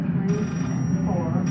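A telephone rings repeatedly inside a virtual reality game, a steady electronic ring heard under a dense low hum and faint background voices.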